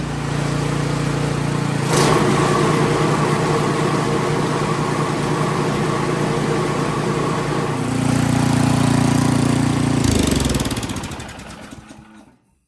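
An Ariens Deluxe 28 snowblower engine running loud and close, a steady droning rumble that shifts pitch partway through before winding down and cutting off at the end.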